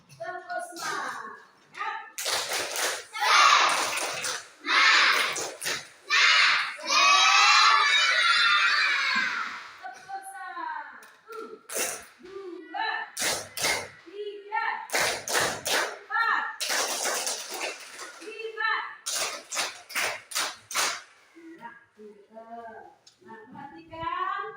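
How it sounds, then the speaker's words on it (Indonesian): Primary schoolchildren in a classroom perform a rhythmic spirit clap, bursts of sharp group clapping and chanting voices alternating with a teacher talking. "kita tepuk semangat dulu ya. Tepuk semangat."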